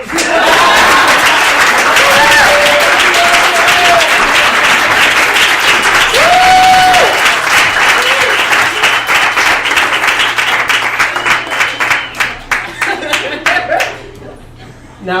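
Loud audience applause and clapping from a crowd, sustained and close for most of the span, with scattered cheers and chuckles mixed in, before breaking into individual claps and tapering off toward the end.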